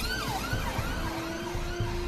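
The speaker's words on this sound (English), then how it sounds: "So that was an ambulance there, the first one I've seen, so obviously someone's been hurt." An ambulance siren wails, loud and close, its pitch sweeping up and down in repeated cycles over steady road noise. A low rumbling of traffic continues underneath.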